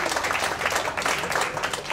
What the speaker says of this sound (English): let's get an extra round of applause for all our judges and our audience judge too